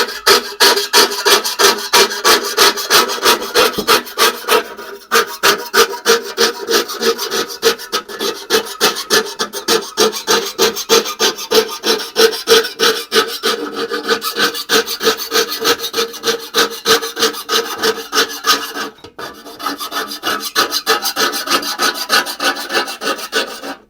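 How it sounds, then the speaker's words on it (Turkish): A fine fret saw rasps through silver in rapid, steady back-and-forth strokes, close and loud, continuing almost without pause. "Şimdi kıl testereyle fazlalıklarını alıyoruz."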